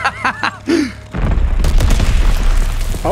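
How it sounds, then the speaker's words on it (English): Heavy bombing explosion in the Call of Duty: Vanguard video game, a sudden loud boom that becomes a sustained rumbling blast, following brief shouted talk. "Oh my god, you survived a bombing."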